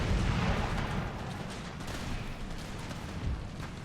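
Cannon fire in an Empire Total War battle with the Empire 2 mod, a dense, steady roar of distant artillery and musketry with scattered dull thumps throughout, no voices.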